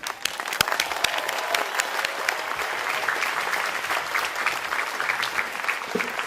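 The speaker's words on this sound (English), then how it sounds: "Let us welcome our new citizens again with a round of applause" Crowd applause welcoming new citizens at a Fourth of July naturalization ceremony in Seattle, a steady patter of many hands with a few sharp, distinct claps standing out, moderately loud and continuous.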